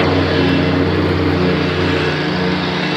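Lawn care machinery runs steadily outdoors, a loud continuous engine drone with a low hum that holds level throughout, no pauses or talk.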